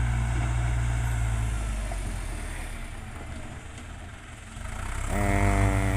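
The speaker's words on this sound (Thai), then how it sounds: "ก็จะเหลือเป็น รถแบคโคกับ รถไถเกต ให้เรียบเก็บงานขอบ" A backhoe and a farm tractor run their diesel engines while finishing the edges of a newly dug farm pond, a loud steady drone that dips slightly then revs up near the end, with no talking.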